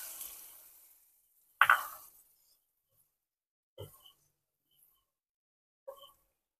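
Spice paste for kakrol dolma sizzling and being stirred in a pan, with a few brief bursts of frying and scraping separated by quiet gaps.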